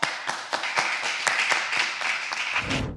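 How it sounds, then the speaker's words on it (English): Live audience applause at a startup pitch event in New York City, a short burst of claps building into a steady patter before cutting off after about three seconds. "let's bring our next founder a round of applause"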